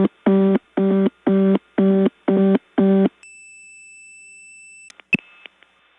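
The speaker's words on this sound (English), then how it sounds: "That is a charming little independent reorder." Reorder tone on a Stromberg-Carlson XY step telephone exchange: six rapid buzzing tone bursts in quick succession, then a steady pure tone, a short click and a few faint clicks, all clear and alone.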